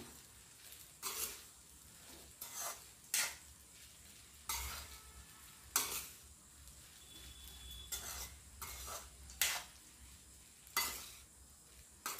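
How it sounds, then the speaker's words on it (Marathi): Food being stirred and mixed in a pan with black pepper, with repeated scraping strokes of a utensil against the pan over a low sizzle, near and fairly quiet with no voices. "आता मिक्स करून घेतो मी"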